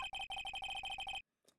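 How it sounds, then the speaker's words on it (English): Electronic phone ringtone in a video game, loud and close, plays as a rapid run of repeating bright chirps for about a second before cutting off abruptly, followed by a short faint rustle. "I heard a phone ring just now."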